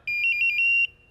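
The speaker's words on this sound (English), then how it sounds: "Bryan hits the horn" A car horn sounds during a wiring test in a garage, a single steady electric tone lasting under a second, close and loud, with no voices.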